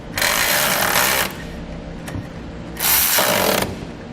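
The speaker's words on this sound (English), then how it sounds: "I'm going to come back using a 7/16 wrench to hold the bolt on the back side, and a 7/16 socket." A ratchet with a 7/16 socket tightens a bolt on a Blue Ox base plate fitted to a 2015 Kia Soul, sounding as two loud, close bursts of rapid clicking about a second each, separated by a short pause.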